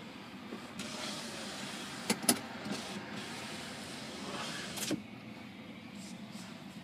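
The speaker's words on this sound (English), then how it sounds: "Has a power window in the back." Rear power window on a 2014 Ram 1500 Laramie pickup cycling, a soft steady electric motor whir inside the cab with a couple of brief clicks and thumps as the glass moves and stops.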